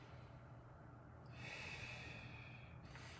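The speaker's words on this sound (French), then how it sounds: "Grande inspiration." A single deep inhale drawn in through the nose, close and soft, lasting over a second against a quiet background.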